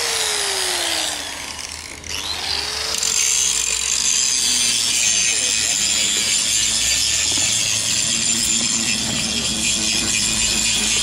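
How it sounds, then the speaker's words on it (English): A power grinder works at a skatepark construction site, its loud, close, continuous whine and grinding dipping and climbing in pitch early on before holding steady. "The grinder."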